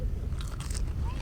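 A single loud, crisp crunch comes from biting into fried popcorn chicken on a beach, set against a steady wash of outdoor ambience.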